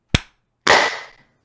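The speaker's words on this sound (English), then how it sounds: "we're all going to clap in unison for the audio track" A single sharp sync clap snaps out near the mic, followed about half a second later by a burst of several people clapping together in a short, slightly ragged cluster that fades quickly.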